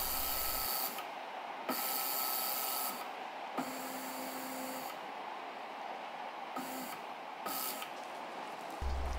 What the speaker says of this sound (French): on peut choisir de combien de millimètres se déplace la machine à chaque fois et à quelle vitesse